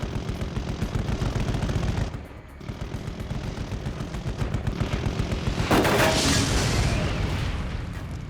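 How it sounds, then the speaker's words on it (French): Sustained gunfire from an AC-130 Spectre gunship in a Navy SEAL combat setting, a loud, dense roar of rapid shots and booms running throughout, with a brief dip before the firing swells again. "Le pilote du Spectre règle ses commandes et ouvre le feu."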